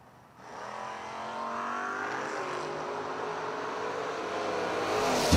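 A 1996 Corvette drag car launches at a footbrake drag racing event, its engine roaring up through rising revs, loud and sustained over several seconds, heard from trackside.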